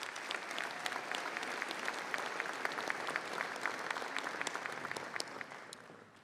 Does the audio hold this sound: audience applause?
yes